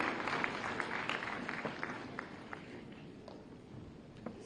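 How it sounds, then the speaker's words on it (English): An audience claps at the World Chief Justices Conference in Lucknow, a dense, steady patter of many hands with occasional sharper claps, moderately distant and continuous throughout. "his arrival here deserves a round of applause"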